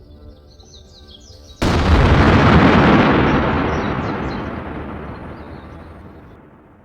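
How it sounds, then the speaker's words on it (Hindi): A huge nuclear test blast at Pokhran in the desert, the Smiling Buddha detonation, erupts suddenly after faint bird chirps into a loud, broad roaring rumble that slowly fades away over several seconds. "एक ऐसा धमाका जिसका असर दुनिया भर में सुनाई देता है। ये था स्माइलिंग बुद्धा, इंडिया का पहला न्यूक्लियर टेस्ट।"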